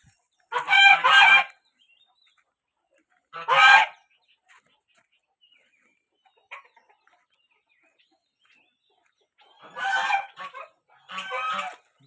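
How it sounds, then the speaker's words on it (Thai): Chickens in a chicken house on a self-sufficient home farm: loud, near calls come in short bursts, two early, two more after a long quiet gap, with a faint chirp between them. "เป็นโรงเรือนเลี้ยงไก่นะครับ"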